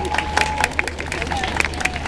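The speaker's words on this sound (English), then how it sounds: "Huge round of applause." Applause at a live fashion show in a mall, a moderately loud crowd clapping with a few sharp individual claps over a murmur of voices and a low sustained tone.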